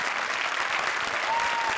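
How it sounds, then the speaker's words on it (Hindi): A studio audience at a televised Hindi comedy show applauds in a brief burst of dense, steady clapping. "जोरदार तालियां"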